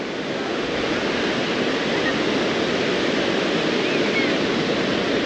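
Surf at Kuta Beach, Bali, makes a loud, continuous broadband wash of waves, steady and rushing throughout.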